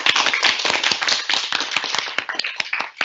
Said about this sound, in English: I'm going to invite everyone else to clap along with me.